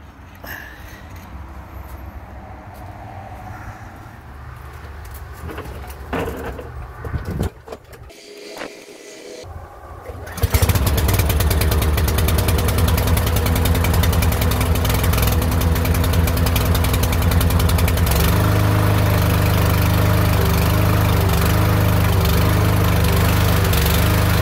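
A discarded lawn mower engine being tested: handling noises and a few tugs, then the engine catches and runs in a loud, steady idle drone close by for the rest of the clip.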